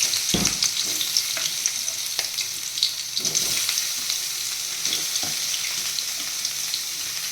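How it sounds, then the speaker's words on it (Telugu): Paneer frying lightly in oil in a home kitchen, a steady bright sizzle with occasional stirring scrapes and clicks from a utensil, close and continuous, with no one speaking. "ఆయిల్ వేసేసుకొని లైట్గా ఫ్రై చేస్తాను పన్నీర్ని."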